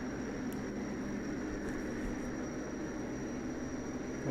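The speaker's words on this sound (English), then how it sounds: "Wobbly airplane." Steady droning engine of a small propeller airplane in the video game Kerbal Space Program, a constant mid-level hum with a faint whine, continuous throughout without talk.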